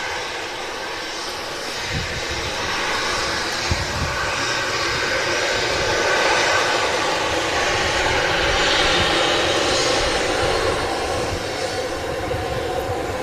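Boeing 737 jet airliner engines at Manchester Airport, a continuous broad whine and rumble holding steady throughout at moderate distance, with no talking.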